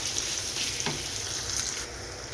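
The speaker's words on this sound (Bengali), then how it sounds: "আমি পেঁয়াজের সাথে পেঁয়াজ রসুন কাঁচামরিচ একসাথে একটু ভাজা ভাজা করে নিব, একটু লাল লাল করে ভাজা ভাজা করে নিব।" Onion, garlic and green chilies fry in hot oil with a soft, even crackling sizzle and a single light stir or tap midway, faint and close with no voices.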